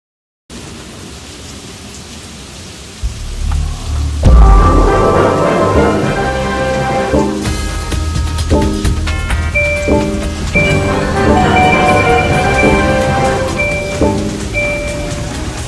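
Heavy rain falls during a chilly soaking downpour, a dense, loud hiss with a low rumbling burst early on and scattered pattering and tonal clatter layered on top throughout.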